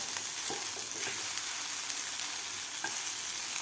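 Okra (bhindi) stir-fry being stirred in a pan, a steady close sizzle with a few soft scraping strokes of the spoon breaking through, alone with no voices.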